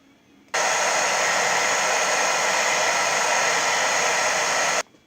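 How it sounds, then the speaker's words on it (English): Hairdryer switched on at steady full blast to heat-shrink a tight string binding in a kitchen, a loud continuous rushing roar that starts abruptly and cuts off near the end. "with the hairdryer, you can now turn it on and shrink the binding that you've done to make it"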